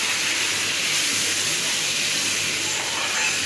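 Spice paste for palak paneer fries in hot oil, a steady, fairly loud sizzling hiss that continues without a break.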